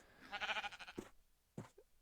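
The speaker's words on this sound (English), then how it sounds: "now we have a whole herd of sheep up at the top waiting to go out the diving board" Sheep in the Minecraft video game give a wavering bleat up close, followed by short soft bumps and a brief second call, heard alone.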